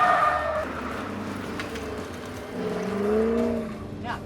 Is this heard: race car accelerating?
yes